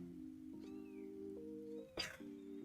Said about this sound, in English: a bunch of bottle feeding kittens